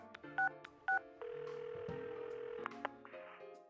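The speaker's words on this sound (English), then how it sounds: "I dial Yosuke-kun's number." Phone keypad tones from Persona 4 Arena Ultimax: two short, loud beeps, then a long steady dial tone, followed by several brief tone blips over quiet game music, with no talking.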